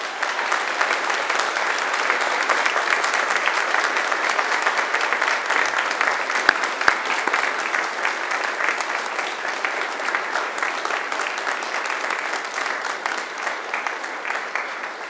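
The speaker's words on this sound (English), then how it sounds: "And now it's time to give them a mighty round of applause." Graduation ceremony audience gives sustained applause, a dense steady roar of many hands clapping throughout, loud and continuous with no talk.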